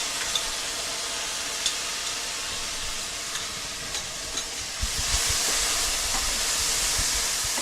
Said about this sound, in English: Okay, these are sauteing nicely. I'm going to put my garlic in.